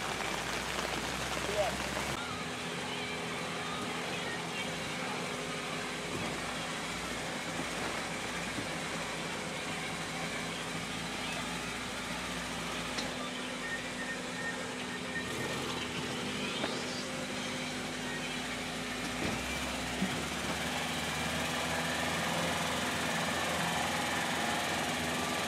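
An all-terrain tracked vehicle drives through Siberian wilderness in autumn rain, a steady low engine drone with a constant hum and occasional knocks and rattles, running under intermittent talk for the whole stretch.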